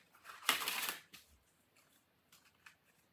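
A deck of tarot cards being shuffled close up: one dense riffling burst, then a few softer scattered card flicks and taps in a quiet room.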